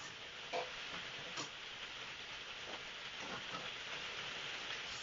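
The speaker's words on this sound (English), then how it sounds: "can you hear the rain?" Rain falls outside as a faint, steady hiss heard from indoors. A few soft taps stand out slightly from it, and nobody speaks.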